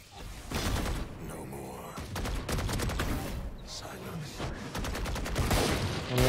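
Rapid bursts of automatic gunfire and single shots crackle through a shooter video game firefight, loud and close, with brief player speech mixed in.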